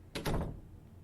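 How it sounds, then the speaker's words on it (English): A door opens with a short wooden clunk and rattle, close by, fading quickly into a quiet room. "And having to open doors."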